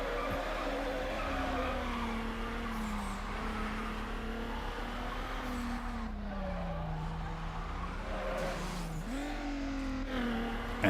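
A car drifts in Need for Speed: Underground on PS2, a Subaru racer, its engine droning steadily with long wavering tire squeals that rise and fall throughout.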